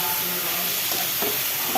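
Spice paste fries in a pan, giving a loud, continuous sizzling hiss close by, with a little stirring and scraping mixed in.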